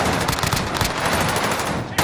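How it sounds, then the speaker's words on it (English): A launcher weapon firing in a multiplayer shooter video game: a dense, loud rapid-fire burst of shots that continues without break for the full stretch. "I'm gonna shoot with the launcher"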